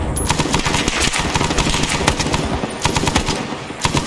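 Rapid bursts of automatic gunfire in the Vietnam War game SOG Prairie Fire, dense and continuous with sharp crackling reports packed close together, loud and close with no pauses.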